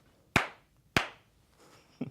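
A small group claps together in sync before an interview starts: two sharp, loud claps about half a second apart, then a quieter third clap after a short pause.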